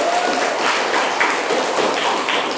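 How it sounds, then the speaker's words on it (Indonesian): A classroom of students applauding together, a dense steady patter of many hands clapping at close range for a few seconds, with faint voices mixed in. "Tepuk tangan untuk kita semua."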